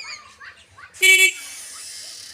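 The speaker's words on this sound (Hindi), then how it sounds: "मैं तकरीबन 2-3 हॉर्न दे चुका हूँ तब भी वो नहीं आया, तो दोबारा ट्राई करके देखता हूँ।" A single loud, bright honk from a small vehicle horn blares for a moment, with a quiet voice talking faintly before it.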